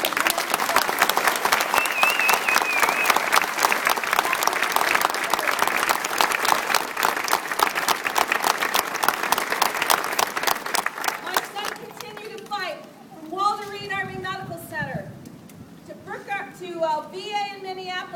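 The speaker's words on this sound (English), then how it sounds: "Let's give them a round of applause." Audience applause for veterans at a hometown hero walk event, loud sustained clapping from a crowd for about twelve seconds that then fades as a voice begins speaking.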